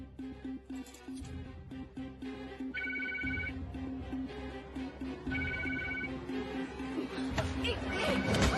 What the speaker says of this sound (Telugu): ఈ రమ్య ఎందుకు ఫోన్ తీయట్లేదు?